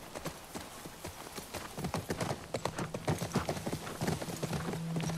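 Horse hooves clip-clopping in The Last of Us Part II, a steady run of close, crisp hoof strikes that builds in density and loudness across the stretch, with a low engine-like hum entering near the end.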